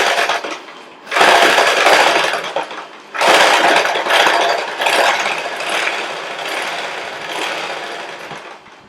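Sewing machine running in bursts while stitching the sleeve of a lining blouse, with a loud mechanical chatter that starts, pauses briefly and resumes, close up with no talk.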